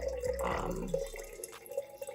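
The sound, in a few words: pouring water from a kettle into a jar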